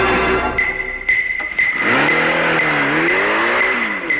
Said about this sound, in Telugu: కారు దూసిపోయిన శబ్దం వినబడుతుంది